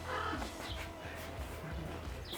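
Crows caw outdoors, a few rough calls faint in the background over a steady low hum, with no talk.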